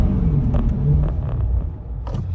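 A C8 Corvette 70th Anniversary Edition with Brembo calipers brakes hard from 60 mph, heard from inside as a steady low road and engine rumble that fades as the car slows, with no talk.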